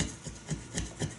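A razor blade scrapes cured resin off a stone-damaged windshield. Three quick rasping strokes come in an even rhythm, close and distinct, with nobody speaking.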